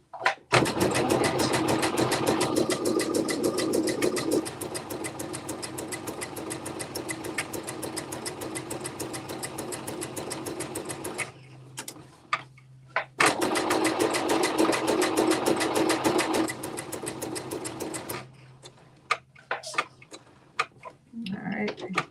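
A domestic sewing machine running gathering stitches on fabric for a KnowMe ME2069 top, loud and steady in long continuous bursts with a brief pause between runs.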